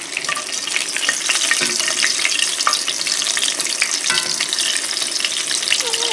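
Pieces of substitute chicken frying in a pan give a loud, continuous sizzle and crackle, with scraping and shuffling as they are flipped over, close up.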